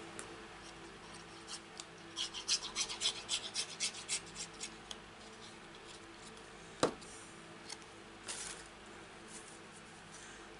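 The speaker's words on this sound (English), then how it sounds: "Glue on my fingers coming off when I rub that" Dried glue rubbed off fingertips makes a faint series of quick dry rasping strokes in a rhythmic burst, followed by a sharp tick and a couple of softer scrapes in a quiet room.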